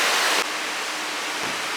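Water rushes through an old sluice beside a small cabin along a trail, a steady, close, broadband hiss that drops slightly in level after the first moment and stays constant.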